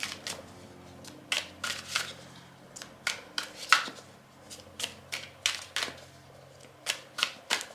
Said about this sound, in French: je vais mettre en place les cartes